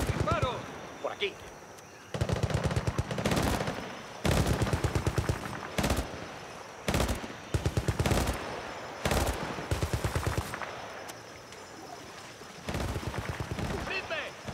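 Rapid bursts of automatic gunfire crackle in repeated loud volleys with short pauses, in a Battlefield Bad Company 2 combat scene on Xbox 360.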